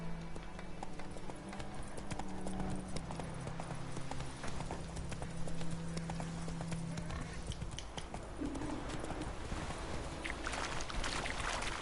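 The horse Roach in a video game gallops with a rapid, steady clip-clop of hooves under faint background voices and game sounds, moderately close.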